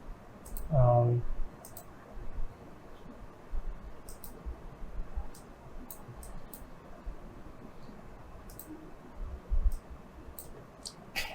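Crisp, close computer mouse clicks sound singly and in quick pairs, scattered irregularly over a quiet background, with a brief bit of speech near the start.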